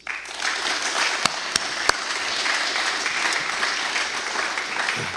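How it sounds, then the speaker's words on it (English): Graduating students at a 2021 high school commencement applauding parents, teachers and staff; loud, dense crowd applause sustained throughout, with a few sharp close claps early on. "give a round of applause to your parents, your teachers, the custodians, the bus drivers, and everybody"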